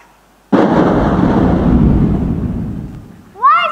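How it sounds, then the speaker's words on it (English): A loud thunderclap bursts in suddenly and rolls off in a long fading rumble during a concert performance, followed by a brief voice at the end. "Why does the thunder get so mean?"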